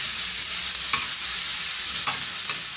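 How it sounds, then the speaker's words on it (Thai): Bean sprouts being stir-fried with tofu in a pan, a steady bright sizzle with a few sharp scrapes and clinks of the utensil against the pan, close and without talk. "ผัดถั่วงอกให้มันสุกให้มันยุบลงก่อน"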